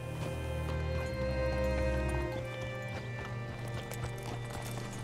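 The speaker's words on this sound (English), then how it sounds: "Hitch your horse up here." Horse hooves clip-clop with a brief whinny in the Red Dead Redemption 2 video game, set over a steady game soundscape with droning music tones, close and continuous throughout.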